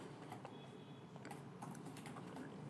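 Quiet clicking of keys on a computer keyboard while entering a SQL Server command, a brief run of light irregular taps close to the microphone over a soft background hiss.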